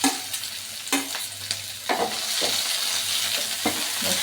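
Tomato chutney cooking in a pan, a steady soft sizzle of frying broken by several scraping stirs with a spoon, close up.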